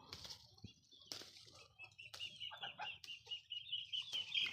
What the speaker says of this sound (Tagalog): Magkakatay tayo ng native chicken.